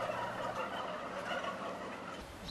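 Turkey toms near the end of fattening in a conventional barn produce a dense, continuous chorus of gobbling and fowl chatter, a steady crowd sound filling the space with no single bird standing out.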